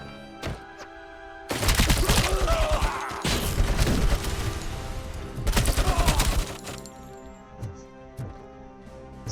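Heavy machine gun in the video game RoboCop: Rogue City firing in two long, loud sustained bursts of rapid shots, separated by a brief pause, with scattered thuds and impacts before and after.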